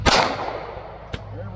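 A .380 pocket pistol is fired at a target about six feet away, giving one sharp, loud report at the start, then a second, shorter crack a moment later.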